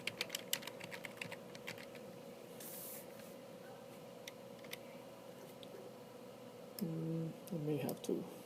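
Computer keyboard typing comes as scattered light clicks and short bursts over a steady electrical hum, and a voice speaks near the end.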